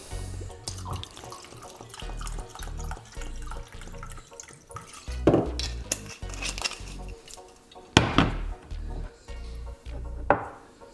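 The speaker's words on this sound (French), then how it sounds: "Dans ce pot, on va venir mettre une cup de vodka." Vodka is poured into a glass jar with intermittent splashes and trickles, along with glassy clinks and knocks against the jar and the counter, up close.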